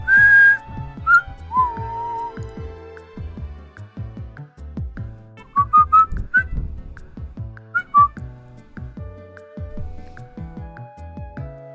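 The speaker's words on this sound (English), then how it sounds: "I air in when I whistle." A person whistles a series of short, bright notes and brief melodic runs close to the microphone, with pauses between phrases over a busy low background.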